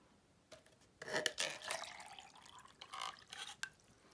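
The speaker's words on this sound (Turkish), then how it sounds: "Şimdi şu şişemizin içine suyumuzu koyuyoruz." Water is poured into a PET plastic bottle in two short splashing bursts, close and fairly soft, separated by a brief pause in a quiet room.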